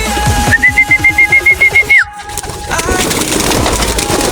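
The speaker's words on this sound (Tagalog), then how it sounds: "Yan na sila mga kalapatids." Racing pigeons returning to their home loft after a derby race, with a steady cooing coo and a sustained whistle tone over wingbeat pulses, followed by rustling ambient noise.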